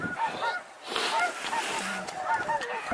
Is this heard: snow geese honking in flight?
yes